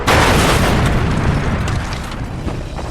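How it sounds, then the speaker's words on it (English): A wounded Focke-Wulf 190 fighter plane hits the ground and explodes, a loud, heavy boom that starts at once and then rumbles and crackles as it slowly fades. "The wounded Focke-Wulf hits the ground in a brilliant explosion."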